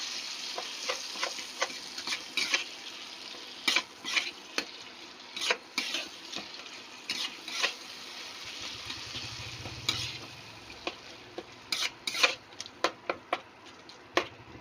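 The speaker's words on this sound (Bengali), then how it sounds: "এই পর্যায়ে দিয়ে দেবো আদা জিরে বাটা ভালো করে কষিয়ে নেবো" Ginger and cumin paste sautéed with fried tomatoes in a pan makes a steady sizzle, broken by sharp scraping and clinking stirs of a utensil at a close distance.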